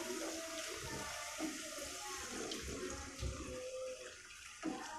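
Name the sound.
water poured into frying chillies in pan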